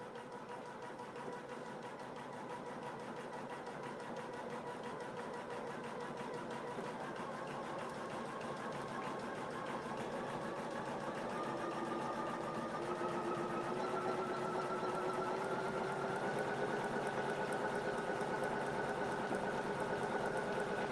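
A sewing machine runs continuously while stitching butterfly quilt blocks, a steady mechanical whir and hum that holds an even speed and grows slightly louder toward the end, with no talking.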